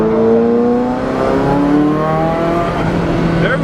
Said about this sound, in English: There go the turbos.